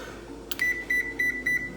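Oven control panel being set to bake gives a short button tap followed by four evenly spaced electronic beeps, close and clear in a quiet kitchen.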